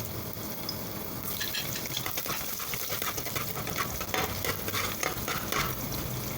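Beans with fried fish sautéing in a pan, a steady broadband sizzle with scraping stir strokes that grow busier after the first second, with no voices.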